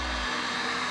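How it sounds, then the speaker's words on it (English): A heat gun blows on its maximum setting while stripping a traction mat, a loud, close, steady whooshing roar of air with a constant motor hum, very brief. "We are using the heat gun in the maximum setting."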